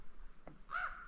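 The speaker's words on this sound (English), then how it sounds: "over here calling the ravens" A single harsh raven caw rings out once at a campsite, faint and somewhat distant, over quiet background.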